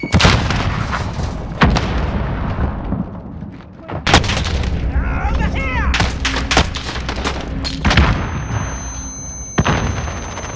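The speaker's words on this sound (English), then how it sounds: "Throwing grenade." Booming blasts and gunfire from Call of Duty Modern Warfare gameplay, with a grenade thrown amid combat; several heavy, sharp impacts repeat irregularly across the stretch, loud and close, over a layer of battlefield noise.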